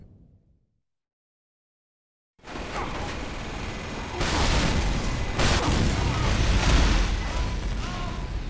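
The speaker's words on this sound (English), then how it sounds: "Be good if I'd stop stepping on grenades." Grenade explosions and battle noise in the video game Team Fortress 2: after a short silent gap, loud continuous chaotic rumbling with bursts of booms.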